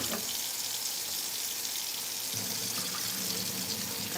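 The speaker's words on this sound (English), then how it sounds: "Let's get this water drained off." Cooking water is poured off boiled macaroni into a sink for mac and cheese, a steady, close, continuous rushing splash with no talking.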